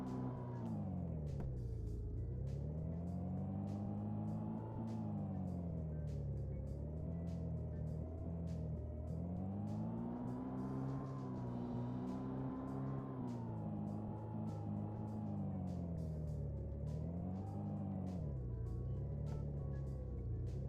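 A default car engine noise on a remote control car in the video game Earthlingo drones steadily throughout, its pitch rising and falling smoothly as the tiny car speeds up and slows, loud and continuous with no talk.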